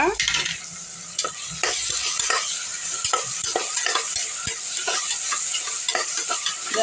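Ginger garlic paste frying with sautéed onions for a vegetable kurma, loud close sizzling with repeated spatula scrapes and stirs against the pan, no voices.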